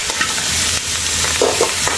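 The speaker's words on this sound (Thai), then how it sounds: "เมื่อพริกกระเทียมหอมแล้วเราก็ไข่ปลาลงไปเลย" Fish roe stir-fried in a pan with chili and garlic over medium heat, giving a steady, close, dense sizzle with scraping stirs, no voices.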